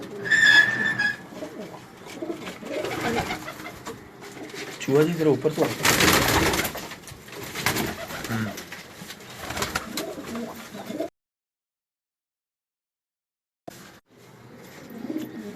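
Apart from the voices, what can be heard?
pigeons cooing in a Karachi loft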